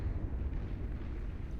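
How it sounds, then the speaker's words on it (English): Low, rumbling blasts from a Cerberus cannon in Beyond All Reason shelling crowds of grunts and fiends, a steady muffled stream of distant explosions at fairly low volume. "Cerberus cannon doing good work. Firing into these crowds of grunts and fiends."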